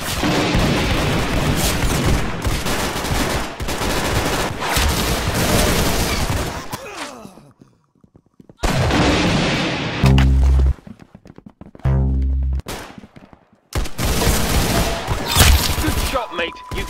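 Gunfire in the Roblox shooter Arsenal: loud, dense bursts of rapid shots and booms in clusters, broken by short silent gaps and a few heavy thumping blasts in the middle stretch.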